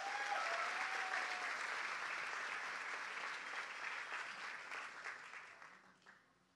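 A live audience applauding a slam poet at a literary event, a sustained wash of clapping from many hands that holds steady, then thins and fades out at the end.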